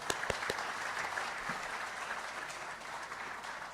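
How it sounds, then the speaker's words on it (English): An audience applauds after a regional address, steady dense clapping that sounds moderately distant and somewhat faint, with no speech over it. "Please, let's give His Excellency another applause of a clap."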